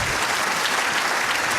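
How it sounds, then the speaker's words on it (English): An audience applauds steadily at a conference gathering, a dense, even wash of many hands clapping at a fairly loud level, with no break in the sound. "you can give her a big round of applause"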